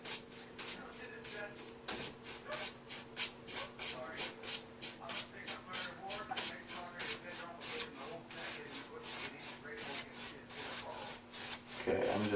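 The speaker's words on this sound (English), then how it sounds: "I'm just doing crisscross strokes" Paintbrush working oil paint in crisscross strokes on canvas: soft, rhythmic scratchy brushing in quick repeated swipes, close and faint, with a voice talking briefly in the background.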